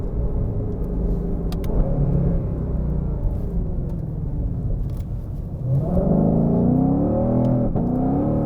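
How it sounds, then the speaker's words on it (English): A 2021 Shelby GT500 pulls away hard with wheel spin, its deep engine rumble steady and then climbing sharply in pitch as revs surge, loud and close from inside the cabin with no talking. "Oh, you got crazy wheel spin on this thing."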